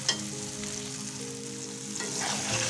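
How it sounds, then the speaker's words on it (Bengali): Pasta noodles stir-fried in a pan for breakfast, salted and tossed, give a steady close sizzle with scraping stirs, swelling a little louder toward the end. "এরপর নেড়ে চেড়ে দিব হালকা। কষিয়ে নেব একটু ভালো করে।"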